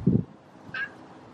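A single short, faint meow from a feral cat being socialized indoors, preceded by a brief low thump and followed by quiet room tone.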